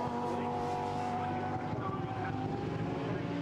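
Super Trofeo race cars at Silverstone, heading down Hangar Straight into Stowe, make a steady, distant engine drone that stays fairly faint and even for the whole stretch.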